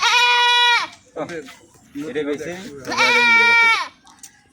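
A goat gives two long, loud, wavering bleats close by, with someone talking briefly in between.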